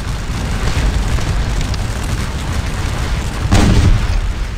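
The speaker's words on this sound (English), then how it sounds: "hold the cannon so that it'll stay in place and fire a canister into the French" Cannon firing canister shot into French troops in the Napoleonic battle game Scourge of War: Waterloo, heard as a steady roar of battlefield rumble with a heavier boom swelling near the end, loud and close, with no talk.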